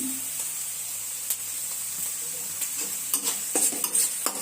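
An egg goes into a pan of frying onion and green chili, giving a steady soft sizzle with scraping stirring clicks that grow busier toward the end.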